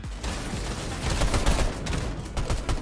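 Gunfire in Fortnite Chapter 5, a rapid burst of loud close shots stacking into a continuous crackling volley for a few seconds.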